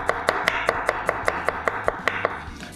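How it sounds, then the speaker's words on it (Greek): Knife finely chopping garlic on a board in a kitchen, about a dozen evenly spaced crisp taps at a steady rhythm, close and clear with no talk. "Και μετά πάμε και ψιλοκόβουμε το σκόρδο."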